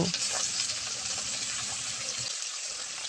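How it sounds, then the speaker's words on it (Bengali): Bata fish fry in hot mustard oil, giving a continuous close hiss and crackle that stays even throughout, with a brief dip near the end. "এবার এপিট ওপিট করে মাছগুলোকে সুন্দরভাবে ভেজে নেব"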